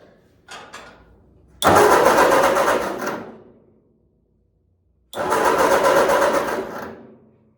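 A 1946 Ford 2N tractor engine with a new coil cranks in two long, loud bursts with a pause between, after a couple of brief sputters at the start; it does not catch.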